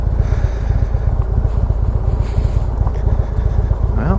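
A motorcycle engine rumbles close by in a steady, throbbing pulse with wind buffeting the microphone, and a brief rising whine near the end.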